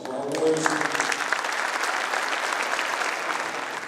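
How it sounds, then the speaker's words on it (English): An audience at an infantry division colors uncasing ceremony applauds steadily and loudly, a sustained dense clapping that starts just after a voice and holds at a constant level to the end. "join me in a round of applause for our warriors"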